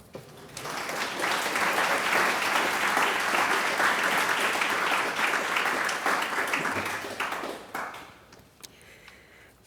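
Audience applause at Tom Burr's book launch for the Torrington Project, a dense, steady wash of clapping from a seated crowd that swells quickly, holds for several seconds, then thins out and fades.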